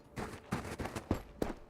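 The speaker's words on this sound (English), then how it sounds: "is probably some of the gunshots from like an M4 or an RK" Gunfire from an M4 rifle in the video game Road to Vostok rings out in quick uneven bursts of about six sharp shots, fairly faint and distant.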